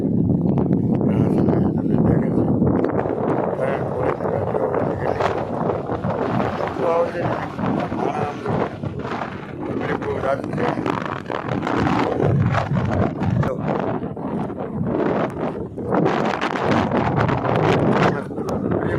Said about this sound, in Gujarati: ખબર તો પડતી જ છે કે પવન કેટલો છે.